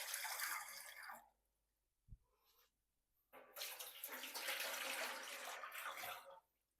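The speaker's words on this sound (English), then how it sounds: "we're adding 8 cups of tap water to each pan" Tap water pours into dye pans in two hissing streams, a steady flow that stops near a second in, then restarts louder and runs for about three seconds before cutting off, with a brief clunk between.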